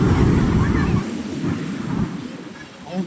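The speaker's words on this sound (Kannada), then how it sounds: "ನೋಡಿ ಅಲೆಗಳು ನೋಡಿ, ಭಯ ಆಗ್ತಾ ಇದೆ ಅಲೆಗಳು ನೋಡಿದ್ರೆ" Sea waves surge and wash ashore at RK Beach in Visakhapatnam, a loud, windy rush of surf that eases after a heavy first second, with a voice faintly present.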